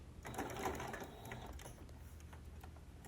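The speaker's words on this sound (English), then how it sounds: "turn the corner and sew off at a diagonal. Little back stitch." A home sewing machine stitches quilt binding, turning a corner and finishing with a short back stitch. Its quiet, steady mechanical whir runs throughout at close range.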